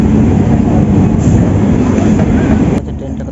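A passenger train pulls out of Howrah station bound for Medinipur, giving a loud, steady rumble of rolling wheels and carriages that continues without a break, then drops away sharply near the end.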